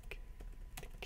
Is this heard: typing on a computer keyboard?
yes